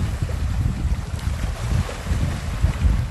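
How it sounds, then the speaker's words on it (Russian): Sea and wind at Nagaev Bay in Magadan in early June: gusts buffet the microphone over a low, rolling wash of waves, loud and uneven, with no voices. "вот вам немножко нашего моря"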